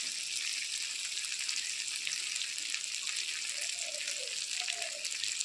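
Ground spices with chili powder and turmeric frying in a pan for a fish curry, a steady, close, bright sizzle that holds evenly throughout with a few faint clinks, with no talking.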